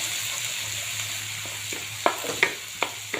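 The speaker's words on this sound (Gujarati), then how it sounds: "મસ્ત સાંતળી લઈશું આપણે" Onion with ginger-chili-garlic paste sautés in oil in a kadai, giving a constant sizzle. Toward the end come a few sharp spatula scrapes and clicks against the pan.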